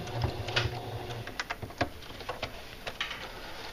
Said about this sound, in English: I'm going to give a little reverse stitch right there, because I don't want it to pop open.